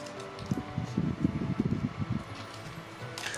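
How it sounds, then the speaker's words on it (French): An electric fan whirs steadily in a room where an A6M Zero model aircraft kit is being assembled, with a soft broadband rush and irregular low fluttering thumps. "vous entendez le bruit du ventilo"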